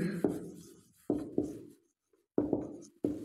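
Chalk or marker strokes on a classroom board come in short bursts of scratching and tapping with pauses between them, close and clear, with no voice heard.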